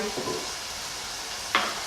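Beef tripe fries in oil in a pan, sizzling and crackling, with a brief louder spatter near the end.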